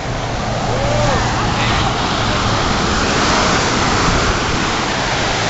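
Steady roar of ocean surf rolling onto Manly Beach in Australia, a loud continuous wash of breaking waves heard close up, with a faint voice briefly under it.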